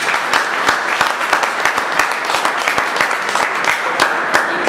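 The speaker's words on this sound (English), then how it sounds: "So give him a big round of applause." An audience breaks into loud, sustained applause at an event, with dense clapping and sharp individual claps standing out close by for several seconds.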